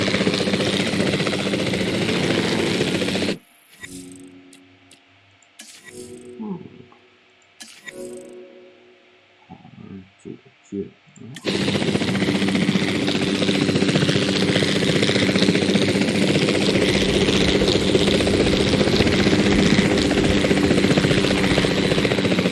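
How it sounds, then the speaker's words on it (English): Capture team helicopter in the dinosaur park game Jurassic World Evolution 2: a loud continuous rotor and engine drone that drops away into quieter clanks and rattles for several seconds, then returns at full strength for the rest. "Then the sensible thing is to take a capture team helicopter."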